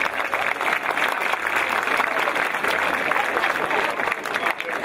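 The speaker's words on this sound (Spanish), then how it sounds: "Un aplauso para el general." An audience applauds a general in a steady, dense wash of clapping that holds at full strength for about five seconds, with no voices over it.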